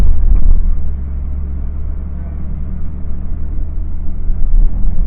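A 1991 Ford F-150 4x4 pickup with a manual transmission runs nearby, giving a steady, heavy low rumble throughout with slight swells in level and no talking.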